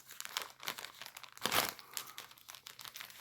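A swap parcel is unwrapped close by, paper crinkling and rustling in uneven bursts with a louder tearing crunch midway, and no voices.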